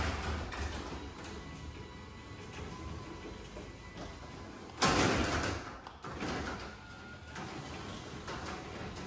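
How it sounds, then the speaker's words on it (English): A garage door opener hums and rattles as it runs a garage door through its travel, a steady mechanical drone with a louder bang partway through, recorded fairly quietly. "The garage door opener does work."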